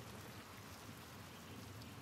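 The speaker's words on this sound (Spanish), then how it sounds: "Mañana de tormentas." Rain and storm ambience in the video game Pentiment, a steady wash of falling rain with a low rumbling undertone, soft and unbroken with no voices.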